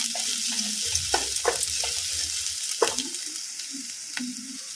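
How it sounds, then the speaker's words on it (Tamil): Vegetables for wheat rava dosa sautéing in a pan with a pinch of asafoetida, giving a steady close sizzle broken by several sharp stirring scrapes and clinks, with no talk. "நல்லா வதக்கி கொடுத்துக்கலாம்."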